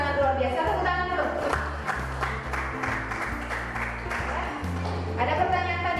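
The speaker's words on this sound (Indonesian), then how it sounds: "Tepuk tangan dulu." A class of students applauding a classmate's question in a school lesson, brisk clapping that swells, dips under a teacher's voice in the middle, then rises again, over a steady electrical hum.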